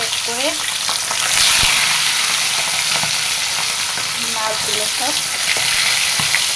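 Food frying in hot oil in a pan with cumin seeds for a home fish curry with ridge gourd and potato, giving a loud, steady sizzle throughout with a few faint chirps in the background.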